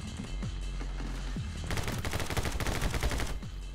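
Rapid bursts of gunfire from the action video game My Friend Pedro, sparse single shots at first, then a dense, loud volley of repeated shots in the second half over a steady game soundtrack.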